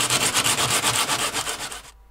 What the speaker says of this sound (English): The next step will be to sand the bevel to remove scratches from filing